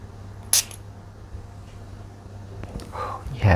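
A vintage 1980s perfume is sprayed onto skin in one short, sharp hiss near the start, followed by quiet room tone, faint rustling and a brief voice near the end.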